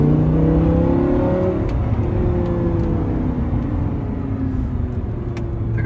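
An Audi R8 V10 Plus accelerates on roads around Monaco, its engine note swelling in a steady, fairly loud roar with no talking.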